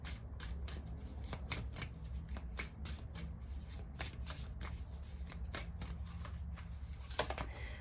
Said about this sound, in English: let me get one more card for you